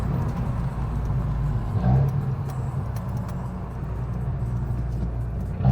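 Steady low engine drone and road rumble inside a moving Abarth 595, with a faint swell near the two-second mark and no talking.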